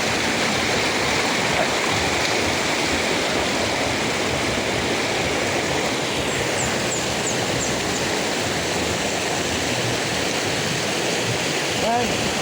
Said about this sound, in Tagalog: Dito nanggagaling ang tubig.